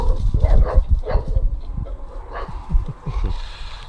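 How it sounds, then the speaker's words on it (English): Several dogs bark in irregular bursts at something beyond the gate on a property in the bush, fairly close and loud, with yips mixed in. "Little bit of action from the dogs there. They must see something out the gate."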